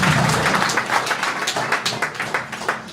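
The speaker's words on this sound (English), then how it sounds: "You gotta clap for these people" Live comedy-club audience breaking into dense applause, many hands clapping at once in a steady roar with rhythmic peaks, close and loud, tapering slightly toward the end.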